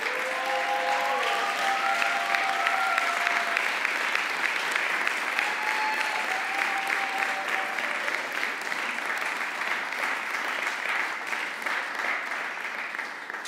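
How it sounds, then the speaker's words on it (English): A large commencement audience applauds continuously, a broad wash of clapping at moderate distance that holds steady for several seconds, with faint background tones drifting through early on. "Would you please applaud the parents, spouses, children, family, and friends assembled here?"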